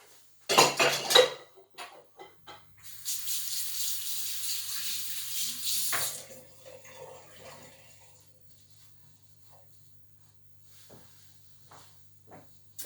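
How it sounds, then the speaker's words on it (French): Dishes and cooking utensils being washed in a kitchen sink. First a loud clatter of metal and crockery, then a few seconds of steady running tap water, followed by scattered clinks and knocks as items are set down. "quand on cuisine, il faut aussi faire la vaisselle."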